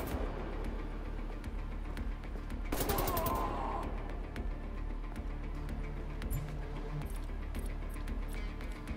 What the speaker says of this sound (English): Let's just get the bouncing bullets of the shotgun out